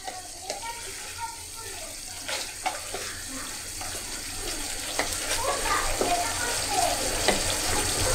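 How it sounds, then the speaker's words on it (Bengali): Fried eggs added to sizzling masala and oil in a pan for a Bengali egg curry, a soft steady crackling sizzle with occasional pops and stirring clatter, growing slightly louder, under a quiet speaking voice. "এর মধ্যে আমি ভেজে রাখা ডিমগুলোকে ছেড়ে দিচ্ছি"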